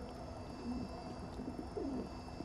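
Pigeons coo in the video game Dreamfall Chapters, with a few soft, low, rolling coos rising briefly above a steady hum of ambient game background noise.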